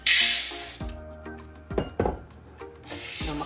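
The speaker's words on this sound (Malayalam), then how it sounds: "ഇനി നമ്മുടെ ഉരുളി നന്നായിട്ട് ചൂടായിട്ടുണ്ട് അതിലേക്ക് നമുക്ക് കാപ്പിക്കുരു ഇടാം" Coffee beans tipped into a hot uruli pan for roasting rattle and clink, with a bright hiss at the start followed by a few sharp knocks and scattered ticks, close and fairly loud.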